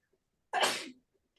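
One sharp, close sneeze bursts out of near silence, lasting under half a second with a quick airy fade.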